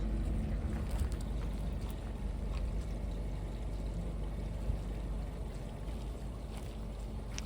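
A steady low rushing flow of liquid pours continuously through a hose as an RV septic tank drains, with a constant outdoor rumble and no speech.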